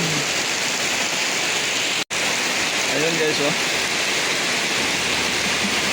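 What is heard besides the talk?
heavy rain outside Lake Apo parking area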